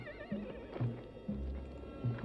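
Several horses whinny and neigh in short repeated calls, fairly close, in an open-range Western setting, with faint hoof clip-clop and low background rumble; no one talks.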